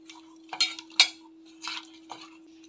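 Fish being mixed by hand with turmeric powder and mustard oil in a bowl, a few soft wet clinks and rubs of metal and food in short bursts, close and quiet over a steady faint hum.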